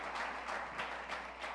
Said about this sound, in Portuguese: Se você concorda, aplauda o Senhor